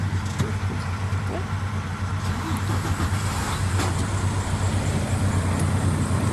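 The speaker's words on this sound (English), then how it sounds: "I'll crank it up, let you hear what it sounds like and everything." A 2014 Freightliner Cascadia truck engine idles steadily with a deep low rumble that holds at a constant level throughout, with no clear cranking start, and a faint voice is barely present.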